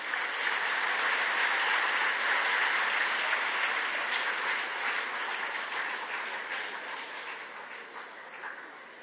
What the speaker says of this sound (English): do clap for the winners